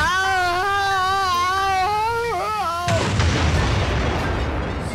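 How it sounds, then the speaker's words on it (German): In the video game Beyond Good and Evil, a loud explosion suddenly bursts in after a sustained whining tone, followed by a dense, rumbling noisy wash that lingers for a couple of seconds. "explodiert einfach"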